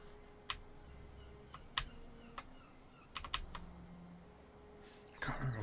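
Quiet computer keyboard typing, with scattered individual keypresses and small clusters of clicks at irregular intervals, heard close and alone.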